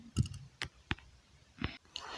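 Mouse clicks while logging into a FreshForex trading account: a few sharp, isolated clicks spaced across a couple of seconds, close and fairly quiet, with no talk over them.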